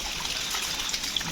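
Rainwater gushes hard from a rain collector in a vineyard during rainfall, a close, continuous hissing splash with a bright spray quality and no voices.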